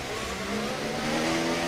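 An F1 24 video game race car engine howls at full throttle, a loud, continuous high-pitched drone holding steady and slightly building over a couple of seconds with no talk.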